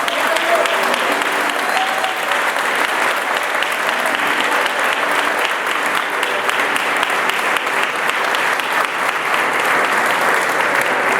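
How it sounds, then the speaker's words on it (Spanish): Sustained loud applause from a large church congregation, steady clapping filling the space throughout without letting up. "Fuerte el aplauso a Jesús."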